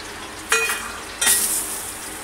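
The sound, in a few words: crushed garlic sizzling in hot oil for tempering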